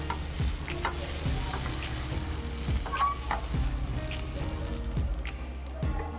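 Pav bread rolls fry and get stirred in a hot pan for Bombay-style pav bhaji, giving a steady close sizzle broken by regular scraping stir strokes about once a second.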